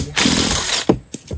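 Power driver with an extension running a fastener into a hose reel mount: a loud, close whirring spin of about three-quarters of a second, followed by a few short clicking bumps and brief handling noises.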